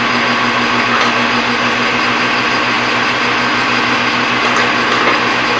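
A machine runs steadily while threading a 5/16-18 thread on a breather nut for a vintage Mustang, producing a continuous loud motor whir with a constant hum and no breaks.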